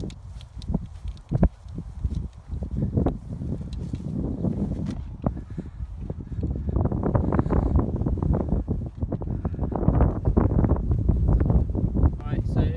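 Gusty wind buffets the microphone on an open golf course, a steady low rumble that builds and grows louder through the second half, with occasional footstep-like thumps.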